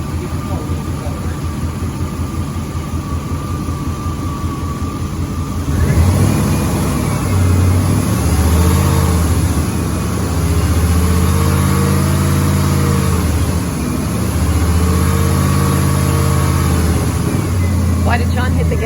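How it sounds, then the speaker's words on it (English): A 2002 Jeep Grand Cherokee Laredo 4.6L engine idles steadily, then revs up and holds at higher speed with rising and falling pitch, close by, while people talk over it during an A/C refrigerant recharge. "it speeds up the engine"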